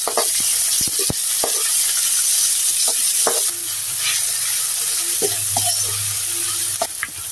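Tomatoes, onion and ginger sizzle loudly in a pan, a constant hiss broken by sharp scraping and clacking as a utensil stirs them, with no talking.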